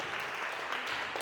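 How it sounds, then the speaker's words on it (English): A live-show audience gives a warm round of applause for the guests, a soft, steady wash of many hands heard faintly and briefly without voices. "let's give a warm round of applause to Darrell and Bam and families"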